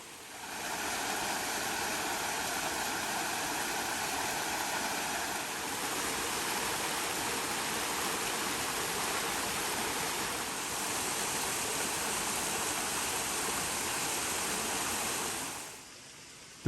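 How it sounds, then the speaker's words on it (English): Buttermilk Falls in Kentucky makes a steady roaring rush of falling water. It sounds close and unbroken for about fifteen seconds, then fades out briefly at the end. Nobody talks. "And finally, Buttermilk Falls."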